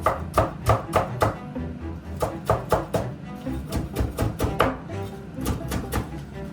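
A knife chops green onion on a cutting board in a steady series of sharp, close taps, grouped in quick bursts with brief pauses between them, with no talking.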